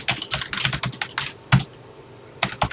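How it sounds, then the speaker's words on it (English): Keys clack on a TI-99/4A home computer keyboard while a BASIC program is entered. Quick clusters of crisp, close keystrokes are broken by short pauses, with a final burst after a brief silence. "let's get typing"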